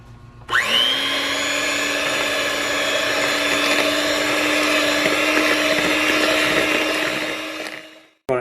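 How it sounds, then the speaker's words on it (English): An electric mixer whisks an egg with vanilla extract for gingerbread cookie dough, running as a loud, steady motor whine that kicks in abruptly, holds at an even pitch for about seven seconds, then cuts off. "we're going to put in our egg, 1 egg, and a vanilla extract, and we're going to whisk this together"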